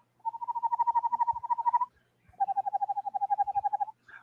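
A person imitates an eastern screech owl with two long, rapid trills of hooting pulses, each lasting about a second and a half, separated by a short pause and heard up close without other voices.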